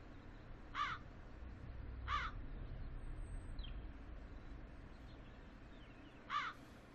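Crows caw in a video game setting, three short harsh calls spaced irregularly over a steady low ambient hum, fairly distinct against the quiet background.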